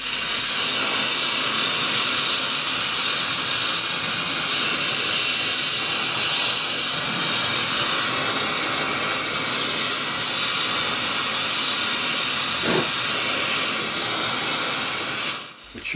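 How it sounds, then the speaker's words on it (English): Torch heating boiler joints for silver soldering on a miniature steam locomotive: a loud, steady roaring hiss that runs unbroken for about fifteen seconds and then cuts off. "Heating the sides of the joints to make sure that I get good silver solder flow through the joint."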